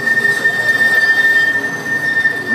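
A tram's wheels squeal on the rails in one loud, steady, high-pitched screech that holds for the whole stretch, with no talking over it.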